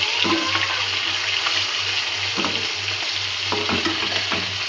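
Fish pieces fry in a pan with a loud, continuous close-up sizzle over a low steady hum, with a few sharp clinks and scrapes as the pieces are turned.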